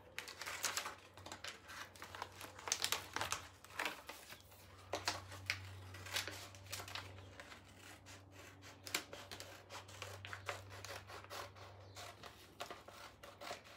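Scissors trimming a Dixie Belle paper transfer, with close, quiet snips and paper crinkling in irregular bursts over a low background hum.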